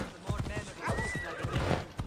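A horse in Assassin's Creed Odyssey neighs loudly while its hooves clop in quick, uneven beats nearby, with speech running over the sounds.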